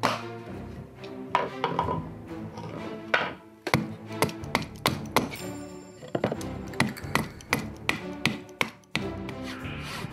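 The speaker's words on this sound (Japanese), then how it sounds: "型紙を当て出来上がりを想像しながら余分な部分をナタで割る。" Hatchet blows splitting excess wood from a squared timber block being shaped into a Noh mask, a series of sharp, close wooden chops and thunks at an irregular, sometimes quick rhythm, alone with no talk.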